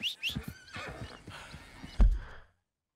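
A horse whinnies twice in quick succession in the video game Red Dead Redemption 2, followed by snorting and a louder, deeper blow before the sound cuts off.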